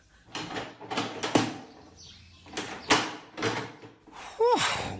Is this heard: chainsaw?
no